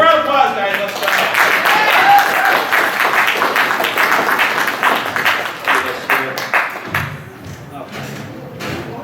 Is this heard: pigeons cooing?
no